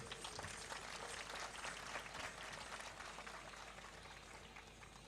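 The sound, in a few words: applause for the girls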